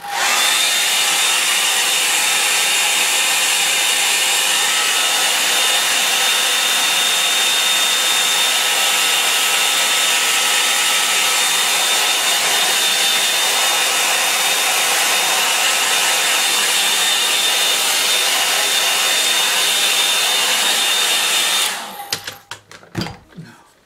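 A hair dryer dries a watercolour and mixed-media painting, blowing loud and steady for about twenty seconds before switching off, followed by a few brief handling clatters.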